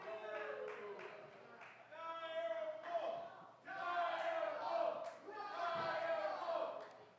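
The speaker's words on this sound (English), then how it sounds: "Crowd chanting for the dire wolf Cory Kerr to get back into this" Wrestling crowd at an independent show chanting rhythmically in waves, loud and continuous, with bursts of cheering between chant phrases.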